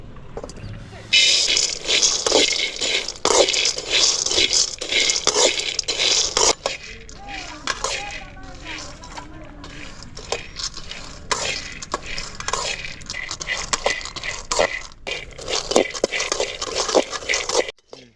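Peanuts are dry-roasted in a pan over medium heat, stirred with a steady, close, rattling scrape that goes on and off throughout, with a voice speaking faintly at times.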